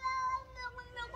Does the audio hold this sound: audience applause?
no